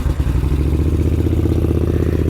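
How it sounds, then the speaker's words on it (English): A 1980 Moto Guzzi V50 II motorcycle engine runs with the choke on, a loud, close, steady throbbing idle with a rhythmic mechanical clatter and no voices. "this beautiful Moto Guzzi V50, and I'm going to turn on the choke here, which is on the left hand side, turn the ignition on and start her up"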